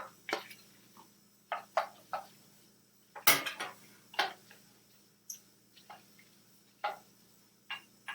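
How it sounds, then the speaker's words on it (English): A spoon stirs melting butter into Kraft macaroni noodles in a pot, giving quiet scattered clinks and scrapes against the metal, close and faint, with no voice. "We'll stir that butter and let it melt."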